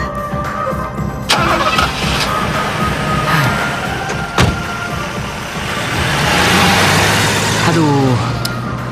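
A car engine turns over and starts, then idles and revs steadily up close, with background scene sounds and some voices around it.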